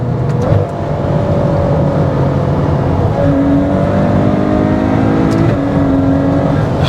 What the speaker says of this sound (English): I can just hear this V12 rawness getting out of this exhaust.